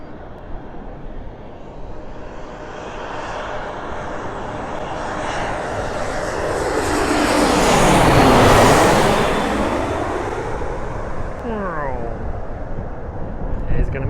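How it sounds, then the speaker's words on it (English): An American Eagle regional jet passes overhead near Reagan National Airport with a roaring engine noise. It swells to a loud peak at mid-pass, then falls away with a sweeping pitch shift, over steady outdoor background noise. "This is an American Eagle. It's a regional jet."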